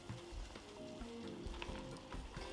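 Spinach being stirred into a hot pan of masoor dal, with steady close sizzling and frying broken by scraping stirring strokes, continuous and fairly quiet with no talk.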